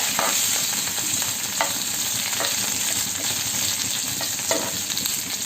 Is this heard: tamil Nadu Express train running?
no